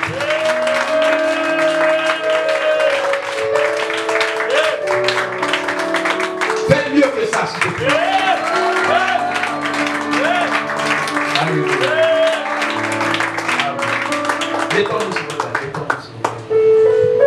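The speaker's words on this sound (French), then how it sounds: "Donnons une forme d'acclamation à ce que tu as." Applause from a church congregation during a Sunday worship service, clapping mixed under loud music with sustained instrumental and sung tones dominating the whole stretch.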